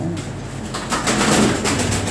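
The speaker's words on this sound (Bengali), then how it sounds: "কম দামে কবুতর এগুলো পাবেন না আপনারা" Pigeons of fancy breeds kept for sale, cooing and murmuring nearby in a steady low stream with faint rustling.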